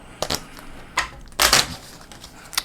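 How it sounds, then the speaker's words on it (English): Playing cards being shuffled during a tabletop game of Onirim, heard as a few short, crisp riffling bursts, the loudest in the middle, with quiet gaps between them and no voices. "I shuffle these."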